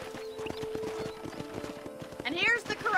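Horse hooves clip-clop at a ranch corral in the Red Dead Redemption video game, a steady rhythmic beat of close hoofsteps under talk and background music, ending with a loud whinny.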